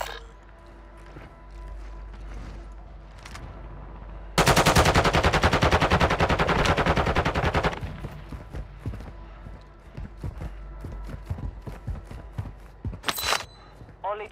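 Rapid automatic gunfire in Call of Duty, a loud continuous burst of about three seconds amid quieter scattered shots and footsteps, with one more sharp shot near the end.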